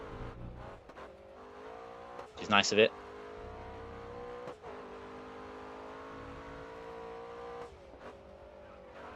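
A McLaren race car in GRID Autosport drones with a steady high-revving engine note, briefly squealing its tyres, as someone talks over it throughout.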